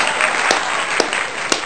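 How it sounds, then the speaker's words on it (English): A single person claps alone in a flat, sharp separate claps spaced about half a second apart over a soft background hiss. "just clapping by myself in the flat"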